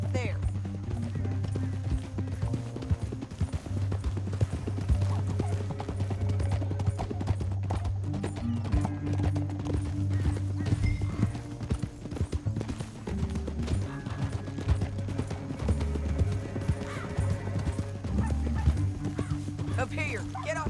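Rapid hoofbeats of several horses galloping in Red Dead Redemption 2, under a music score, with voices talking over the clatter throughout.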